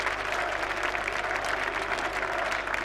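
Cricket crowd at a 1999 England versus New Zealand Test match applauding steadily, a dense, continuous wash of clapping from a large stadium audience.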